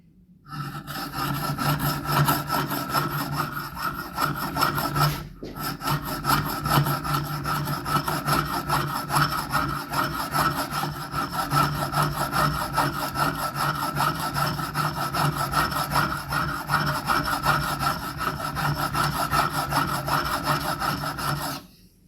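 A chisel is honed on a grinding station, a loud continuous scraping rasp of steel on abrasive stone that runs steadily for about twenty seconds with one brief pause.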